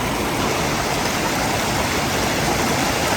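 Water rushing over creek cascades in the Smoky Mountains, a loud, close, unbroken roar of flowing stream water that stays steady throughout with no voices.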